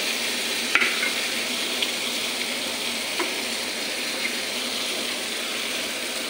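Ridge gourd and tomato frying in a pan over low gas, a continuous even sizzle close up with a few faint clicks of a spatula, no voices.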